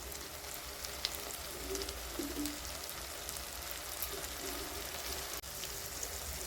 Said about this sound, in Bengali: দিয়ে এটাকে একটু ভেজে নেবো একসঙ্গে।